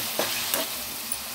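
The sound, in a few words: stirring tomatoes and green chilies frying in a pan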